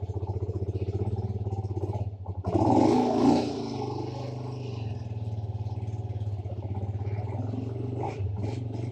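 A motorcycle engine idles to warm up on a cold mountain stretch between Mastuj and Shandur, a steady close-up rhythmic putter with a brief louder revving burst early on before settling back to idle.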